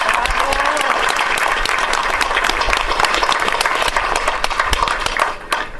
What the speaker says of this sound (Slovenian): Se ne vem, če mu zdaj ploskate temu